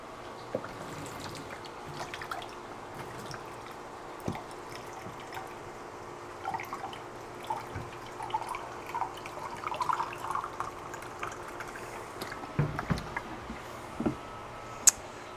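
Dirty water from a hands-free mop drips and trickles as it drains, irregular splashes and droplets spread over about fifteen seconds, close and fairly quiet, with no talking.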